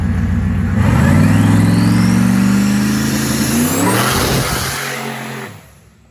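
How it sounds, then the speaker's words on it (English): A race truck's engine revs hard, rising in pitch across several seconds and then cutting off abruptly near the end, loud and close. "Here's RSP's new race car right here, or race truck."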